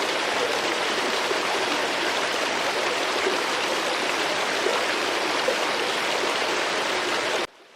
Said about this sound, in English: the only sound at night was the rush of water